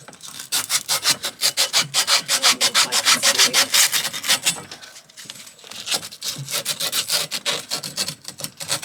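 Cut copper pipe being cleaned and deburred before fitting a SharkBite spigot, heard as rapid rhythmic scraping strokes, loud and close, with a brief pause midway.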